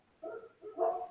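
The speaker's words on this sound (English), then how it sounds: "they're 2 big dumb dogs, and they're not going to stop barking" Two big dogs bark in a couple of short, muffled bursts heard from a little distance, with no talking over them.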